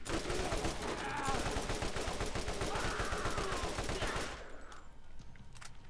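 Dense, loud automatic gunfire in the video game Borderlands rattles on without pause for several seconds, then cuts off abruptly, leaving a quieter tail with faint game sounds.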